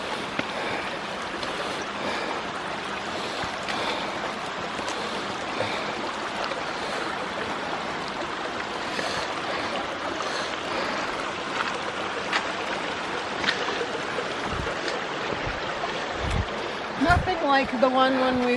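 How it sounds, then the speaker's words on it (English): Creek water rushes steadily across a hiking trail crossing in Pisgah National Forest, a continuous broadband wash with a few brief louder splashes or steps near the end. "we've got a creek crossing here."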